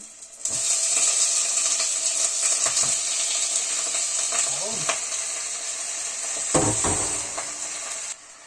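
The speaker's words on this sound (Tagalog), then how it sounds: "Igisa na natin yung chicken" Chicken sautéing in a pan for Filipino fritada, a bright continuous sizzle with occasional stirring scrapes and clinks, close up and steady throughout.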